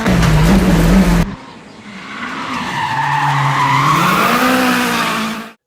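The 2016 Ford Focus rally car from Gymkhana 9 skids loudly at first. After an abrupt cut, its tires squeal and the engine revs in rising and falling sweeps until a sudden stop.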